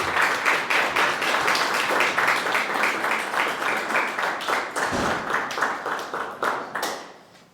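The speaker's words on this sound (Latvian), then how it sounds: "Ar aplausim muziķus sveiksim." Audience applause for two musicians at a Latgalian prose reading festival evening, a dense, steady clapping from a sizable crowd that carries on for several seconds before thinning out.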